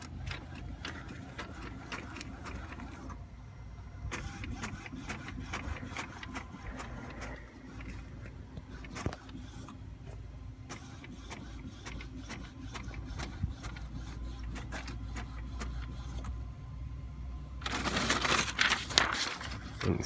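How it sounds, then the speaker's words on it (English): An office printer runs off two black-and-white copies of an invoice, giving a low continuous mechanical whir with intermittent feed noises and a louder clattering burst near the end, with no speech. "And there's printing starting."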